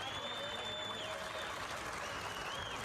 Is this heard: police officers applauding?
yes